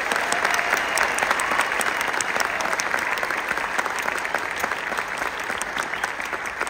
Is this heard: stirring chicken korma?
no